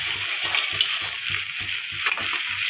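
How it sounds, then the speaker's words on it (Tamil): River crab pieces sautéing in a hot pan, a continuous loud sizzle with regular soft scraping thumps from stirring about every quarter second, no voices. "இப்போ சுத்தம் பண்ணி வச்சிருக்க நண்டை வந்து அதில் சேர்த்து நல்லா வதக்கிக்கலாம்."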